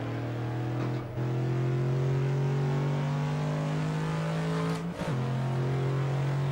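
A 1966 Ford Mustang GT in Assetto Corsa, driven at Monza, revs in long rising pulls. Two brief dips mark gear shifts, and the loud, close engine note keeps climbing.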